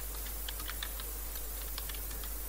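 Fingers type on a computer keyboard while working in Excel VBA, producing irregular quick clicks in short bursts over a steady background hum, with no talking.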